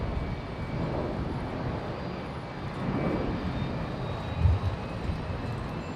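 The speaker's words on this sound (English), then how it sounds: "I can hear a Fokker." A Fokker aircraft's engines drone at Brisbane Airport, a steady, broad rumble heard from a distance that swells slightly midway and holds throughout, with no voices over it.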